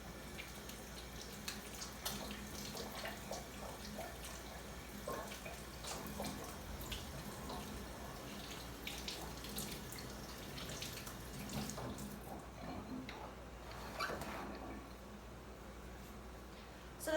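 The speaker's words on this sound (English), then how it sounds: "Just gonna wash my hands." Tap water running steadily into a kitchen sink during handwashing, a continuous close hiss and splash with small shifts as hands move under the stream, quieting near the end.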